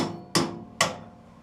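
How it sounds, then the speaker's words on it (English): A hammer strikes a wood blank stuck on a lathe drive center in the taper, two sharp solid knocks about half a second apart, close and fairly loud, each ringing off briefly. "it's very difficult to hammer it back off"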